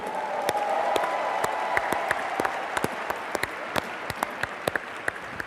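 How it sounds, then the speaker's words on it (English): A corporate event audience gives the staff team a big round of applause, dense steady clapping from a large crowd that stays strong throughout, with a few sharper individual claps standing out near the end. "How about a big round of applause for our corporate team?"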